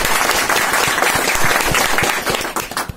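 A classroom of people applauds a visiting guest with dense, loud, sustained clapping from many hands that carries on evenly throughout.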